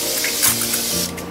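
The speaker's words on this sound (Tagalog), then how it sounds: "I'm gonna spray my favorite Avian facial spray." A fine mist of Avène facial water sprays from a pressurised can during a lying-down makeup session, a steady close hiss lasting about a second with no talk over it.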